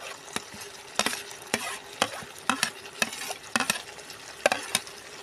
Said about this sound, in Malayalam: അവിടെ വാട്ടി വെച്ചിരുന്ന ഗ്രേവി ഇതിലേക്ക് ചേർക്കുകയാണ്